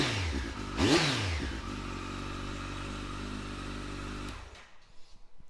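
A 2016 Kawasaki ZZR1400 ABS Performance Sport motorcycle cranks and fires up, its engine swelling in a sharp rev before settling into a steady, loud idle close by, then cutting out abruptly.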